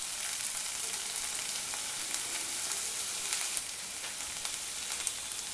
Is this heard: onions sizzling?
yes